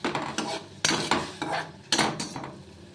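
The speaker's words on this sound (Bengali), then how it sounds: "এটা নিয়ে আমি এবার 1 মিনিটের মতো নাড়াচাড়া করে নেব" Ginger, garlic and green chili stirred in a pan over a low flame with a metal utensil, giving a run of sharp, close scraping and clinking strokes in an uneven rhythm over a faint sizzle.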